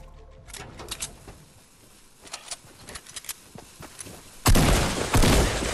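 Shots ring out in a video game shooter, a scattered series of sharp gunfire bursts building to a loud, sustained volley near the end; no one talks over it.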